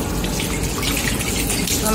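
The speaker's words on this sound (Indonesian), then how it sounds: "Kemudian kita nyalakan kembali kerannya" Tap water runs steadily during a handwashing demonstration, a continuous close splashing hiss that stays at an even level throughout.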